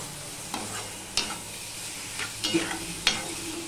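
Masala for a fish-head curry with potato and papaya is stir-fried in oil, a soft continuous sizzle broken by several distinct scrapes and clacks of a spatula stirring the pan, close up and without speech.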